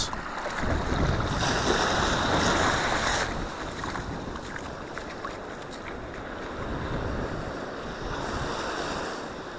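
Atlantic Ocean surf rolls in as a continuous broad wash, swelling louder early then easing, with wind buffeting the microphone throughout and no voices.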